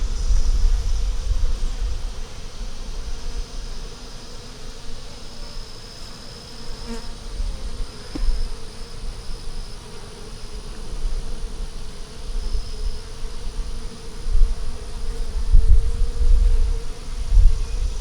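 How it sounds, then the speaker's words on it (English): Continuous buzzing of many honeybees from a small swarm close by, a dense steady drone that swells and fades slightly, with no voices. "You don't want to stress your bees out."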